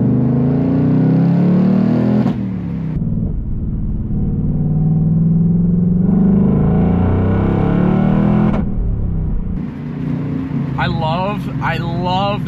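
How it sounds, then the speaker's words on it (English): Exhaust of a 2024 Ford Mustang Dark Horse accelerating hard through the gears on the road, loud rising engine note cut by abrupt shifts with crackling pops between them, a voice speaking briefly near the end. "I love that backfire between shifts."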